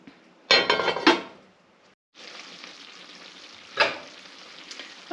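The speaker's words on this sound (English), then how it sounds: "So now I'm just going to put the lid on and let it cook down." A lid being set on a cooking pot, with a couple of sharp metallic clinks and rattles over the steady hiss of food sizzling and cooking down inside.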